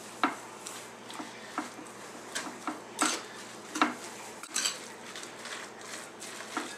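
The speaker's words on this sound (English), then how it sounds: "Okay, and all we're going to do is just mix it together." Herbs being mixed into a filling in a bowl, with a utensil scraping and clinking against the bowl in scattered soft taps at close range and no talking.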